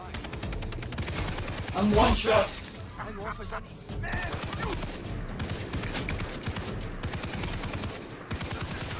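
Rapid automatic gunfire rattles through a Far Cry 3 firefight in dense, fast bursts that barely pause, with a louder blast near the start and a brief voice over the shooting.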